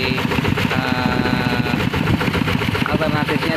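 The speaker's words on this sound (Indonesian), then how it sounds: "mesin pembajak sawah digunakan untuk penarikan airnya dari sumber bor" Small hand tractor engine from a rice-field plough, set up to pump water from a borehole in rural Aceh, chugging steadily and close with a rapid regular mechanical rhythm that runs continuously throughout.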